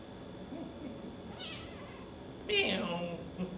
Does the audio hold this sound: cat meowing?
yes